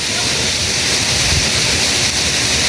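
A waterfall in Shivapuri Nagarjun forest rushes with a steady, loud, unbroken roar of falling water and no voices.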